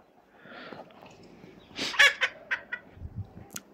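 A chicken clucks with a few short, sharp, scattered calls, fairly close and moderately loud, against a quiet background with no talking.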